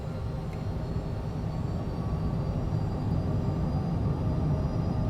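An aircraft in Microsoft Flight Simulator throttles up and begins its takeoff roll, a steady, loud engine roar with dense low rumble holding constant throughout, no voices.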